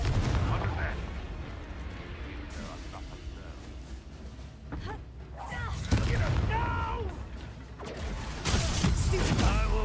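Confringo explosive spell fired in a video game: repeated heavy blasts and crackling impacts, separated by short lulls and thick game noise, with voices talking and exclaiming at times.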